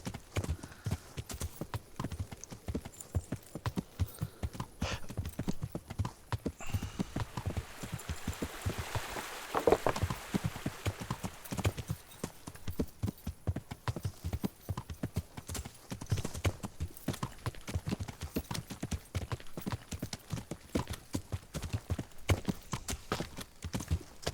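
Horse hooves clip-clop in the video game Kingdom Come: Deliverance, a fast steady trot of sharp close hoofbeats running throughout, with rain pattering underneath and no talk.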